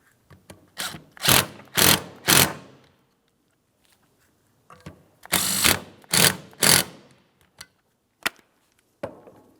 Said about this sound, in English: Start on each of your 2 15mm headed mounting nuts and tighten those as well.